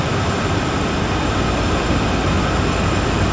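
A heavy freight train grinds steadily uphill out of Cheyenne in Train Sim World 4, with a dense, constant rumble and rail roar at close range and no voices.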